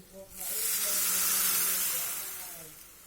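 A loud, steady hiss of water poured into a hot pan of fried Maggi noodles, bursting in suddenly and sizzling strongly throughout before easing slightly at the end.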